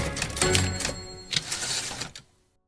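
Old typewriter keys clacking in quick, irregular bursts, with a louder strike and metallic ring partway through, fairly close and alone before cutting to silence.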